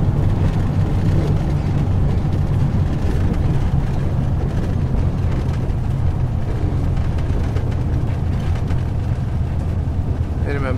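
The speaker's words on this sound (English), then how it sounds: "Minimum braking required after landing." A Cessna 182 Skylane in the A2A flight simulator rolls out after touchdown with braking, giving a continuous loud, dense rumble of engine and wheels that stays steady throughout.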